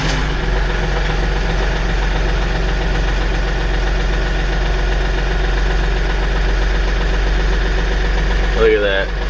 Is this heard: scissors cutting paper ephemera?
no